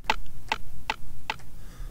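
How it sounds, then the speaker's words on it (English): Four evenly spaced Minecraft note block tones play as quarter notes from a video game, crisp, clicky plucks at a steady moderate pace, close and clear with no talking. "That's what it sounds like to have a quarter note."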